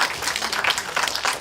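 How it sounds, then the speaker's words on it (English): An audience at a technology conference claps for a volunteer coming down to the stage, a steady burst of many hands at close range with no talking. "Give her a round of applause."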